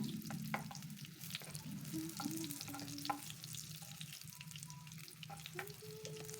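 Eggplant and shallots fry together in a pan with a steady, close oil sizzle and crackle, broken by occasional stirring scrapes and small pops, with no voices.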